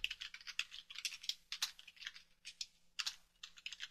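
A computer keyboard clatters with quick, uneven bursts of soft key clicks, close but quiet, with brief pauses between flurries and no talking.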